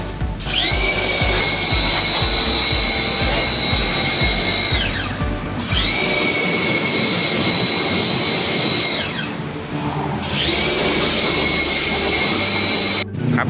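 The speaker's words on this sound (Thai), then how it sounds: "อยู่ในขั้นตอนการฉีดล้างทำความสะอาดแผงลำเครื่องแอร์อยู่ครับตอนนี้" Pressure washer spraying to clean the air conditioner evaporator of a 2012 Toyota Vios with over 200,000 km, a loud, steady high-pitched jet with a whining motor that cuts off and restarts several times.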